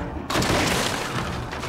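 A gunshot from the Hunter in Little Nightmares 2 hits with a sudden loud blast, then a dense, noisy roar rings on for over a second.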